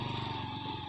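A motorbike with a worn, slippery rear tyre labours up a muddy hill road near Dharan, its engine a faint, steady low drone over a short moment without speech.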